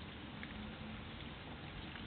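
Steady rain falling outdoors, a constant dense hiss with no breaks, moderately loud and close, with no voices.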